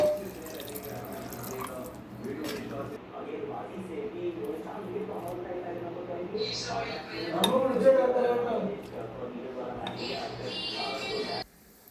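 Water is poured into a pot of fish-head curry made with red snapper head, a steady splashing and trickling under a person talking, with faint clinks of pots and utensils.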